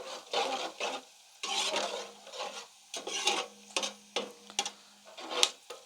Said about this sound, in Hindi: फिलहाल हम थोड़ा इसको फ्राई करेंगे अपने खड़े मसालों को।